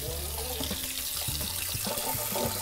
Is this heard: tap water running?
yes